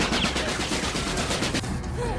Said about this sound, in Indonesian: Aksi tembak-menembak pun terjadi